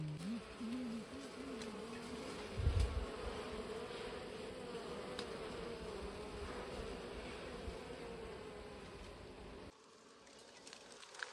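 Honeybees buzz steadily around freshly built honeycombs, a dense close swarm drone with a brief louder burst early on before the sound drops away near the end.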